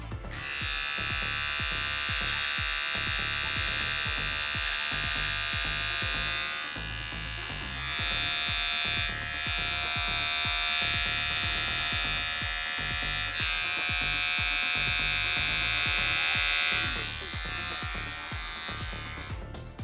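An electric beard trimmer buzzes steadily while trimming a beard, a close, continuous whine that shifts slightly in pitch as it moves across the hair, with brief dips between passes and no talking.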